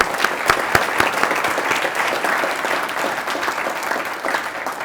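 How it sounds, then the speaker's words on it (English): Sustained audience applause for event sponsors at an automotive design panel in Cleveland, a dense steady patter of many hands at moderate loudness for about five seconds, with a few sharper claps near the start. "I think we give our sponsors a round of applause."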